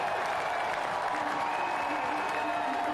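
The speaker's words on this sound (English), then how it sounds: "Delight from the crowd" A stadium crowd cheers and applauds a soccer goal at a Portland USL League One match, a dense, steady roar of clapping and shouting that holds at constant loudness throughout.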